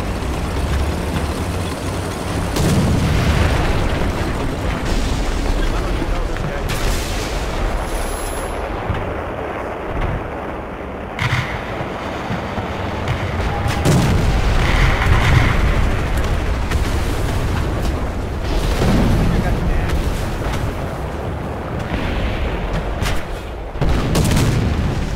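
Tank cannon fire and shell explosions in War Thunder, a loud, continuous battle din of booming blasts, engine rumble and impacts sustained throughout, with several heavier bursts standing out.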